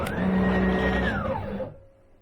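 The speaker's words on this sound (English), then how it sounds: "when I hit the go to 0, it will go to the front left-hand corner of my machine." A CNC machine running a Masso controller traverses to its G54 zero at the front left corner, a steady close motor whine with rising and falling stepper tones that fades out near the end.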